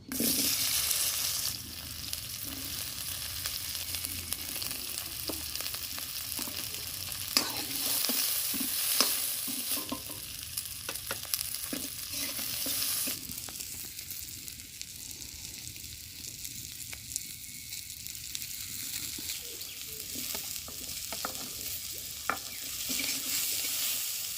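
Onions fry in a pan for an egg curry in a rural kitchen, with continuous moderate sizzling and scattered stirring clicks and scrapes, no voices.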